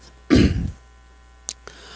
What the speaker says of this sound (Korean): 강의하다 보니까 자꾸 기침이 나오네요